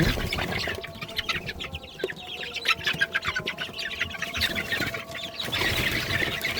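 Chickens cluck and squawk close by in irregular bursts, several birds calling over one another with a faint hum behind them.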